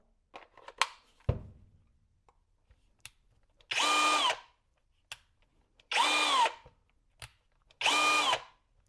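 A Kobalt 24V brushless 3/8-inch right angle impact wrench, reassembled after repair, runs in three short bursts of whirring motor, each about a second long, with clicks and a battery clunk before them.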